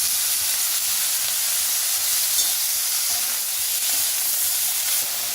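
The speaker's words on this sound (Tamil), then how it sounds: "இப்போ இந்த ப்ரோக்கோலியை போட்டுடலாம்." Broccoli stir-frying in a pan with groundnut oil, butter and garlic, giving a steady bright sizzle and hiss throughout, with no talking.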